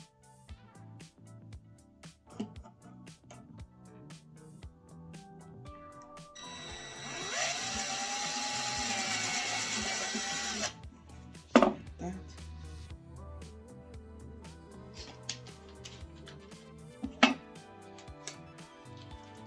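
An electric drill whirs for a few seconds while pre-drilling small pilot holes, its pitch climbing as it bites in, surrounded by quieter knocks and handling noises with some talking.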